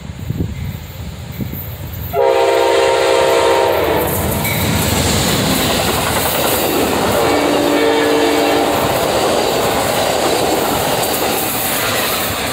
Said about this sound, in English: And that's the Capital Limited, going heading to Chicago.